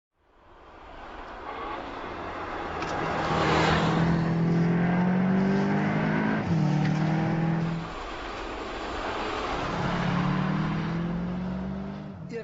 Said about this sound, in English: The corner exit acceleration of that car is just unbelievable.